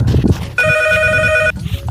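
A telephone rings in one steady, bright electronic trill lasting about a second, loud and close, with a noisy room around it at a birthday party.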